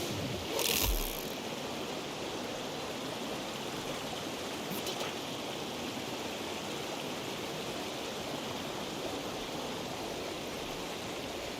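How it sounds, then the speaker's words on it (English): A loud waterfall in Grow: Song of the Evertree, a constant dense rushing roar that holds steady throughout, with a short thump near the start and a faint click midway. "Get away from the waterfall. Well, that thing's loud"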